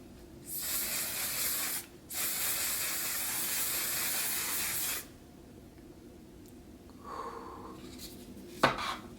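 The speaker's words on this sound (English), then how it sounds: "so now I'm going to use the One Size Until Dawn setting spray on top." Two bursts of makeup setting spray hiss close by onto a face, a short spritz followed by a longer sustained spray, then quiet with faint rustling and a small tap.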